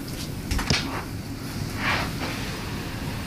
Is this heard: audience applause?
no